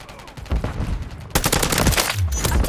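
Rapid bursts of automatic gunfire crackle in a Call of Duty MW3 firefight, a sharper, louder volley kicking in halfway through and continuing densely to the end.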